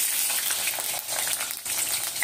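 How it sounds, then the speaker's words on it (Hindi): Potatoes fry in a pan with a steady, dense hiss and crackle throughout, close and fairly even in loudness, with no voices. "आलू को थोड़ा फ्राई करूंगी"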